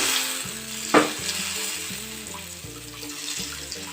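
Oil sizzles and crackles steadily as boondi batter drops into the hot pan, with a sharp clink partway through and background music underneath.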